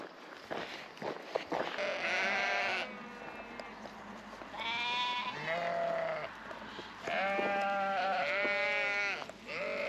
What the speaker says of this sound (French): On est attaqué par des moutons, ils me suivent.